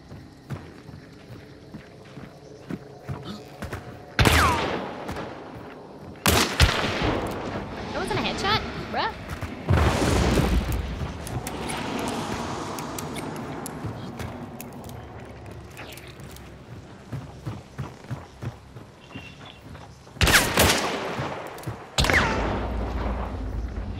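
Loud bursts of gunfire from the Hunt: Showdown video game, several sharp shots spaced across the stretch with running footsteps and movement in between, while players talk over it.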